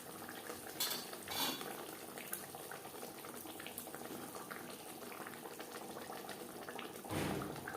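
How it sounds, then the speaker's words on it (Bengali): Silver carp pieces added to a pan of boiling gravy and stirred in, with a steady bubbling simmer and occasional clinks and scrapes of a utensil against the pot, louder bursts of sizzle near the start and end. "গ্রেভির সাথে মাছ বেশ ভালো করে মিক্সড করে দেব।"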